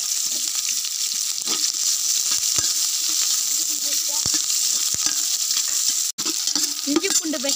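Onion and chili frying with whole spices in a pot for quail biryani, a dense, steady hiss of oil with scattered stirring knocks and scrapes, close and even in level, with a brief dropout near the end.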